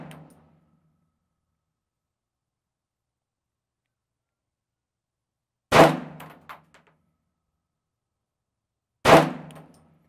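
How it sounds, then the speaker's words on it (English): Pistol shots fired with an optic-equipped handgun at an outdoor shooting range: sharp, loud reports several seconds apart, with the tail of one at the start and a small echo after one of the reports, and no talk. "3 shots with those adjustments."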